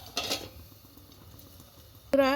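A lid goes onto an oiled pan holding a semolina breakfast batter: a short metallic clatter near the start, a quiet stretch, then a brief ringing tone at the end.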